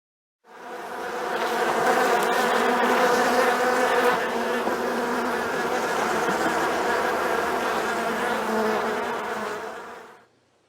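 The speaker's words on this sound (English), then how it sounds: "Can you find the bees?" Bees buzz in a steady, dense drone on a farm, loud and continuous for about ten seconds with no voices over it.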